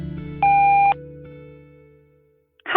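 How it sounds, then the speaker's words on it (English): A voicemail system's recording tone: one clean electronic beep lasting about half a second, preceded by a fading low tone and followed by silence, then the start of a caller's voice at the very end. "Please leave a message after the tone."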